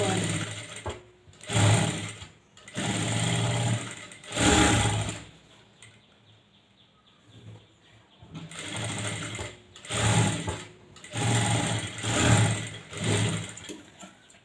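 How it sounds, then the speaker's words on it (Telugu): A sewing machine stitches around the neckline of a blouse, running in loud, steady whirring bursts separated by short pauses, with a longer quiet gap midway before it starts up again. "ఇప్పుడు దీన్ని నేను నెక్ చుట్టూరా కుడుతున్నాను."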